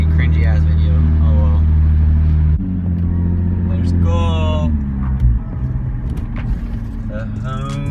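Cars at a street car meet roar and rev nearby, engines droning loudly and then sweeping past, while people talk over the noise.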